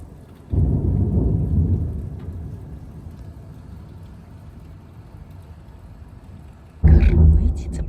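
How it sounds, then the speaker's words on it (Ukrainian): Thunder rumbling during a thunderstorm with lightning, two loud low booms, the first rolling and fading over several seconds, the second sudden and close, with rain in the background. "Молнія, гром гримить."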